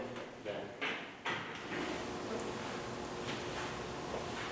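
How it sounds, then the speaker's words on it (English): A metal door on the steam freighter William A. Irvin being shut in its engine room, a few scraping thuds and a sharp closing knock early on, then echoing quiet room tone. "Just gonna close this door"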